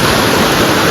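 Water rushes into a village swimming pool in a steady, loud, even flow with no voices.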